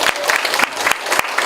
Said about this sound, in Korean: 그럼 우리 방경민 선생님 큰 박수를 모시겠습니다.